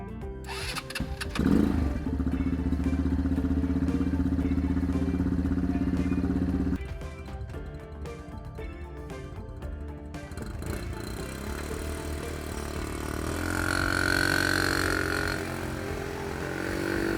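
A homemade tracked ATV running close by, its small engine starting with a sharp burst and then idling with a steady buzzing drone, the pitch shifting as the friction clutch steering is worked.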